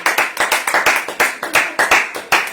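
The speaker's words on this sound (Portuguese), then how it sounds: "Uma salva de palmas." A church congregation claps during a service, a brisk, evenly spaced run of sharp, loud hand claps that repeats steadily across the whole moment with no talking over it.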